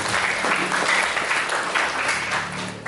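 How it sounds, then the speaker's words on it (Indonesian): A church congregation claps warmly for several seconds at a Sunday worship service, a dense, steady patter of many hands filling the room, fading slightly toward the end. "Mari kita berikan tepuk tangan yang meriah."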